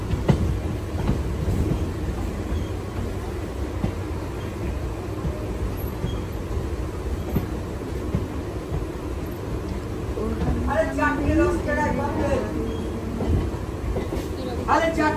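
Train pulling into Hasnabad station, a continuous low rumble and rattle of rail cars with some squeal near the end, under scattered voices.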